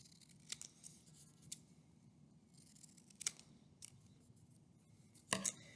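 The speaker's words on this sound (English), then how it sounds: "cut out a triangle for the beak" Scissors snip a small triangular beak shape from folded paper for a leafy owl craft, several quiet crisp cuts spaced irregularly, close and isolated over low room noise.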